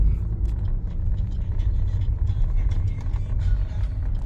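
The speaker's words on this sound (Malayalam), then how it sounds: "ഇതാണ് bus stand Kayamkulam bus stand" Steady, loud traffic rumble at Kayamkulam bus stand, with car and bus engines idling and passing close by and no clear speech over the constant low drone.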